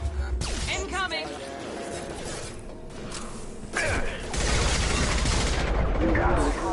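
Gunfire in the Mass Effect 2 video game, rapid bursts of shots mixed with mechanical clanks and dense combat noise, while a voice speaks over the din.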